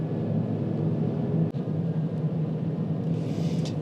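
Steady tire roar inside a Chevy Silverado EV RST pickup on the move, a low, even rumble with no engine note and one brief dip partway through.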